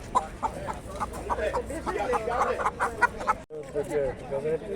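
Several hens cluck and squawk in quick, overlapping bursts close by at an animal market in Lublin, with people talking underneath.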